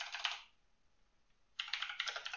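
Rapid typing on a computer keyboard comes in two quick bursts of dense clicking, close and quiet, separated by about a second of near silence.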